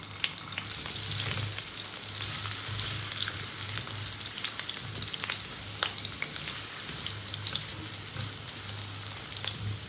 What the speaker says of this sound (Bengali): এই তেলের মধ্যে আমি আলু কটাকে ভেজে নেবো